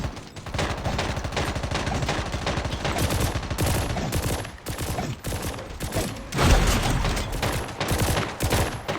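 Rapid bursts of automatic gunfire and weapon blasts from a Call of Duty Mobile zombies match, loud and nearly continuous across the whole stretch, with heavier booms layered in and no talk.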